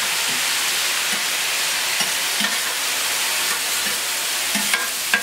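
Onions frying on a hot plancha give a steady, close, bright sizzle with a few soft scraping stirs, no voices.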